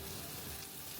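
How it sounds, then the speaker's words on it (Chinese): Soaked glass noodles being stir-fried with soy sauce in a hot pan, a dense, even sizzle with soft rustling from stirring, close and continuous with no voices. "倒入粉丝和酱油翻炒"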